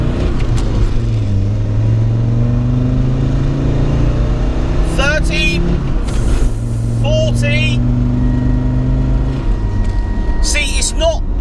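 A budget-modified Land Rover Discovery 4x4 accelerates hard in first gear: a loud, close engine note climbs steadily, drops with a shift, then climbs again, with voices talking over it.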